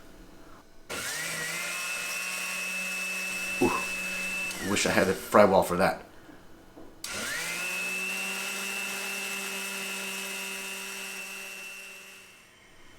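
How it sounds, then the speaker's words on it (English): A blender whirs loudly blitzing patatas bravas sauce in two long runs, with clattering and a brief voice in the pause between them. "pour everything into a blender and blitz it"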